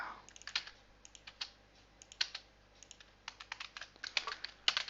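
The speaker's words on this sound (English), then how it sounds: "Then type sysout and control space and type hello CloudRaga." Java code being typed on a computer keyboard, quiet close clicks in short bursts and irregular pauses, with a few louder keystrokes near the end.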